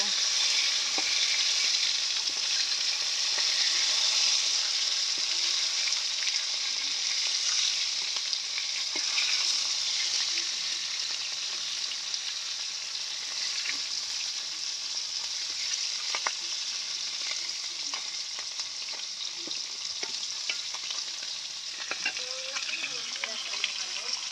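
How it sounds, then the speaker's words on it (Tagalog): Food frying and burning in a pan, a steady dense sizzle that carries on without a break for the whole stretch, with occasional sharp pops and the scrape of stirring now and then. "nasunog na yung piniprito ko"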